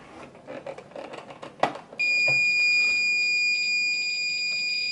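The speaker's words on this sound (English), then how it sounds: "It's an alarm" A fire alarm starts sounding abruptly indoors, a loud continuous high-pitched electronic tone with steady harmonics holding for several seconds after a brief clatter and faint background noise.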